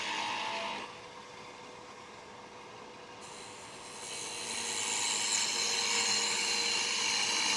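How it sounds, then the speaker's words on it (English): A gouge cuts into a wooden bowl spinning on a lathe, producing a faint steady hiss that grows louder and brighter as the cut sweeps toward the center, with no talking. "We're working that arc, swinging the handle down, finish up our cut into the center."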